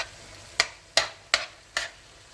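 Four quick spatula scrapes and stirs with a light sizzle as tomato is sautéed for binagoongang baboy, evenly spaced and close, with no talking.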